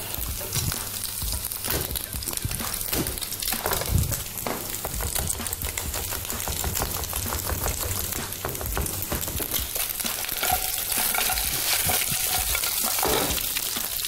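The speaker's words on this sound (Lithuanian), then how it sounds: "Šonkaulius skrūdiname" Pork ribs frying and crisping in a hot pan, a dense, steady sizzle that holds throughout with scattered crackles and pops, close by and without any talk.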